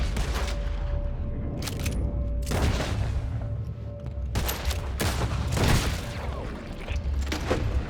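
Scattered volleys of gunshots in Red Dead Redemption 2 crack out in several sharp bursts over a steady ambient bed, fairly close and moderately loud.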